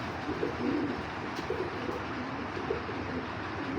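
A three-year-old male pigeon, a black Cobra-type giribaz, coos softly in a repeated low, throaty rhythm, close by against a steady background hiss.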